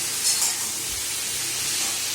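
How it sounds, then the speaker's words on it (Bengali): Potatoes fry in a pan at home, a steady soft sizzle and hiss with a faint low stir or thump partway through, close and continuous with no talking. "রাতে কি রান্না করছো মা? আলু ভাজা।"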